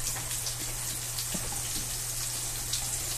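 Fish pieces fry in hot grease in a pot, a continuous bright crackling sizzle close by, with a low steady hum beneath and no talking.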